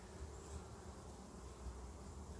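Honeybees at an open hive during an inspection make a steady, faint continuous buzzing hum with no pauses and no voices.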